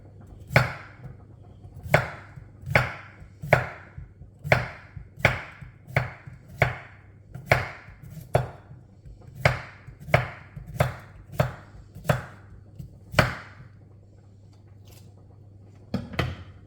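Knife chopping cucumber on a board in steady, evenly spaced sharp strokes, about a dozen close, crisp hits with a short pause before a final cut.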